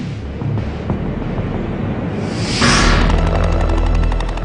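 Loud, rumbling rotor noise of helicopters swells and roars nearby, with a whooshing surge midway that stays heavy and continuous.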